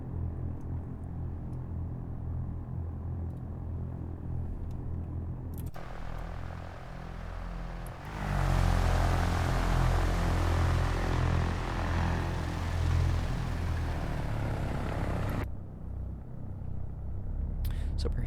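Cessna 152 engine in X-Plane 11 throttling up from a low idle drone to a louder, steady rumble for taxi at Renton Municipal Airport, then dropping back toward idle near the end.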